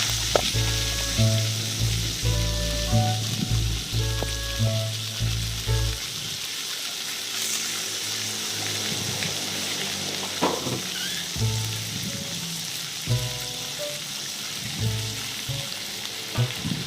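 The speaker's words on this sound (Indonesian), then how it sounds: "Oseng-oseng terus ya sampai tomatnya agak layu ya, biar keluar rasa dari tomatnya." Anchovies stir-fried with tomato in a pan sizzle steadily and loudly, with spatula scrapes and stirring knocks, and a low hum in the opening seconds that cuts out midway, no talking.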